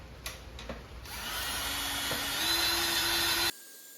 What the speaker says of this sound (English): All right, so now we're gonna start buffing all this out.